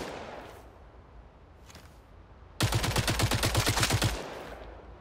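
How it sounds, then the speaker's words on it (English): A PKP machine gun carried by the support operator Sputnik in the game Caliber lets off one loud, rapid burst of about a dozen evenly spaced shots. It starts abruptly after a quiet stretch and lasts about a second and a half. "Sputnik is a support operator equipped with a PKP machine gun"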